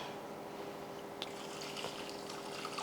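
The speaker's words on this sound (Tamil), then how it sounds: "கொஞ்சமாக தண்ணி ஊற்றி கரைச்சிக்கலாம்" Water is poured slowly into urad dal flour, giving a faint, close trickling and splashing sound that is steady and quiet with small drips, and no talking.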